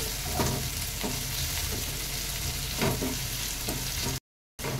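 Small chopped tomato pieces frying in a pan for a rui fish bharta, a steady close sizzle with soft stirring scrapes, broken by a brief silent gap near the end.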